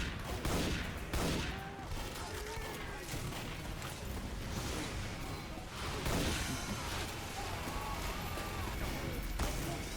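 Rapid weapon fire in the video game Team Fortress 2 Classic, a dense stream of clattering shots over a busy, chaotic game soundscape for ten seconds, with faint voices mixed in.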